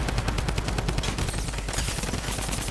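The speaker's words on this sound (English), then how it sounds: "Oh my god, the drum gun is so stupid." A drum gun fires in a video game in rapid, rattling bursts of gunshots, steady and dense for a couple of seconds before thinning slightly.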